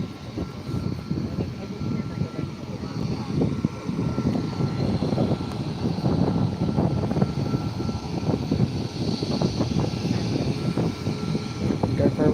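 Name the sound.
aircraft taking off at Skiathos airport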